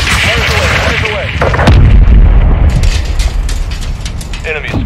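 Artillery fire in the video game Modern Warfare 2: heavy booming blasts with rumbling low impacts and sharp reports, loud and close, mixed with game radio chatter and voices.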